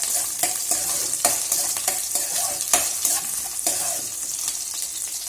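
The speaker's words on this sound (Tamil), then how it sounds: "போட்டு இந்த வெங்காயத்தையும் நல்லா இதோட ஃப்ரை பண்ணிடணும்." Onions sizzle in hot oil for a chutney tempering while a spoon stirs them, with a steady bright hiss broken by regular scraping clinks against the pan, close and loud with no talk.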